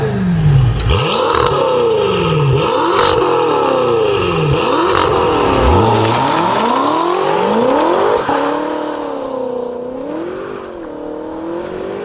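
A BMW F10 M5 with an Armytrix valved exhaust revs hard in a string of loud, repeated climbs and drops, the engine note rising and falling several times before settling to a lower idle-like drone, close and alone.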